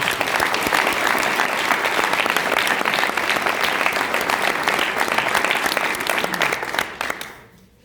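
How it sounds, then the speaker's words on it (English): An audience in a room at a class graduation speech gives the sponsors a round of applause, loud sustained clapping that fades out over the last second. "Let's give them a round of applause."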